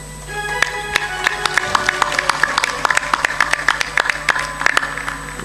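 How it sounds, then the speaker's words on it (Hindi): An audience at a spiritual discourse claps, starting with a few scattered claps and building into a dense run of sharp, fairly loud applause. "ताली जोर से बजाया करो।"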